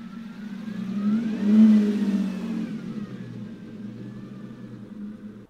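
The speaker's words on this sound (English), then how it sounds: "people are just doing crazy accelerations and burnouts right in the middle" Cars accelerating along Ocean Avenue during car week, with one engine revving up and swelling to a peak before fading into a steady rumble of traffic, close and moderately loud with no talking.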